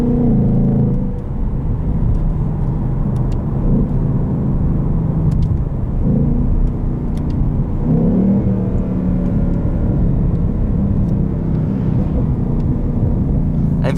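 A 2020 Ford Mustang GT Performance Package with an automatic transmission rumbles steadily from inside the cabin, a loud, continuous low engine and exhaust drone with no distinct pops.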